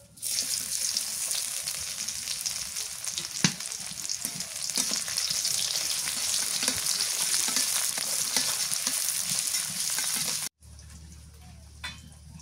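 Onion frying in a pan crackles with a loud, continuous close sizzle, broken by a few stirring clicks and cut to a quieter hiss near the end.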